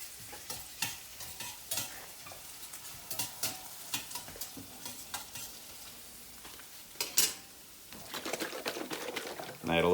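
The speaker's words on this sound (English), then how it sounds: "Stir up these onions real quick." Onions seasoned with salt and pepper being stirred in a pot: quick, rhythmic scraping strokes of a spoon over a light sizzle, with some sharper knocks near the end.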